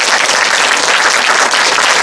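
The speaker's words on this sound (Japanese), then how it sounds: "盛大な拍手をよろしくお願いいたします" Loud, steady applause from an audience at a film week talk event, dense clapping filling the whole stretch without a break.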